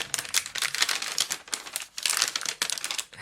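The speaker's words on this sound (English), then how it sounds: "probably you need to hear the sound of this lightweight paper." Thin paper crinkles and rustles close by in continuous crackly bursts, with no talking.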